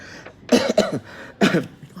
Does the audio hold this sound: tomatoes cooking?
no